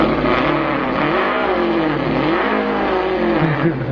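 Human voice imitating a V6 car engine revving, a continuous buzzing drone that rises and falls in pitch like acceleration and gear changes, loud and close for the whole stretch.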